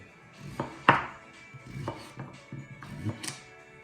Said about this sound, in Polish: Kroimy buraki.